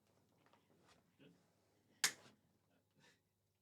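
A single sharp hand clap rings out once in a quiet room during a relaxed podcast chat, standing alone above faint low background hum.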